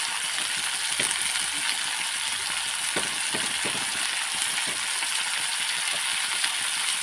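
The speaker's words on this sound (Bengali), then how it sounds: "কেটে রাখা পেঁয়াজ একটু ভেজে নেব" Chopped onions and green chillies fry in a pan for a quick chicken dish, giving a steady, bright sizzle with a few clicks and scrapes of stirring scattered across it.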